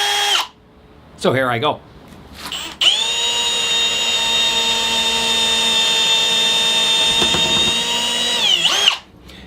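Cordless power drill, newly charged, used for plant room construction, whirs steadily at close range for about six seconds after a brief spoken line, with a short revving burst before it settles into a sustained high whine.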